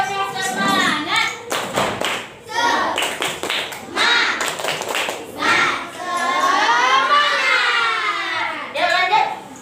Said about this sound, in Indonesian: yuk tepuk semangat dulu. Biar semuanya semangat. Tepuk semangat.